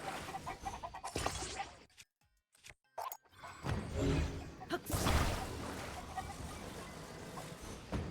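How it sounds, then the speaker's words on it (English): Chickens clucking in the video game Zelda: Tears of the Kingdom near Kakariko, with short clucks and plops scattered through busy game sound and a player talking over it. "get out of my way, chickens"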